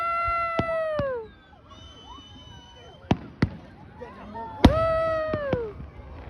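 Canada Day fireworks over the River Valley in downtown Edmonton: several sharp distant bangs and crackles go off in irregular bursts, while whoops and cheering voices rise and fall between them.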